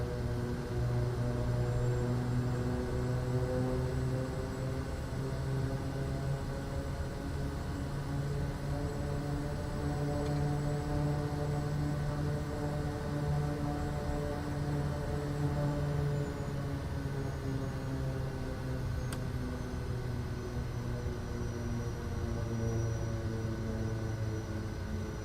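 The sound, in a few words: Kodiak plane taxiing, from video game Microsoft Flight Simulator 2024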